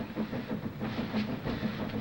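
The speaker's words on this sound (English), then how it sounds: "Train's coming, Mom. Just heard her whistle for the station." A train pulls into a small rural station with a rhythmic, moderately loud rumble and clatter of wheels over rails. A faint hiss sits under the sound, and nobody speaks.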